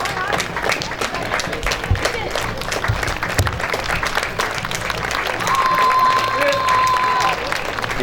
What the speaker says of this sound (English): Getting a nice round of applause, well deserved.